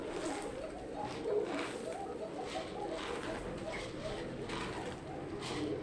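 Red Koka pigeons in a loft housing many pairs, giving repeated low cooing calls that overlap into a steady murmuring chorus at close range, with general loft noise beneath.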